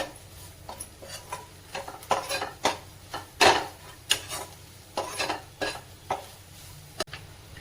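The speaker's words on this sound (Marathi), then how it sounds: "सर्व मसाले व्यवस्थित असे परतून घ्यायचे" Ground spice powders, including kitchen king masala and coriander powder, stirred and sautéed in a pan for a green peas keema, with repeated close scraping strokes and spoon clinks against the metal, rhythmic and fairly loud, no voices.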